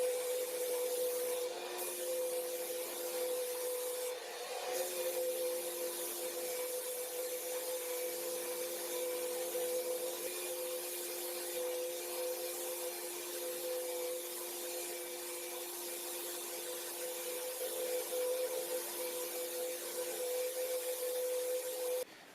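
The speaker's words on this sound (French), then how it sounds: "Donc la turbine est au maximum, à cette position au niveau de l'air." Turbine-driven V33 paint spray gun running at maximum air while varnishing furniture in a cold room, a steady, continuous high whine and hiss holding level the whole time, with no talk.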